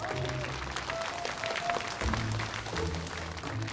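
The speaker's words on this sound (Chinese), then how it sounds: "接下来让我们用热情的掌声，有请我们的新郎登场" Wedding guests clap for the groom's entrance, a broad steady applause running under a bright hall of music and murmuring voices.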